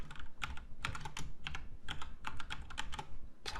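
Steady computer-keyboard typing during an Oracle SQL lesson, a run of crisp, closely spaced key clicks with irregular rhythm, close and fairly quiet, with no talking.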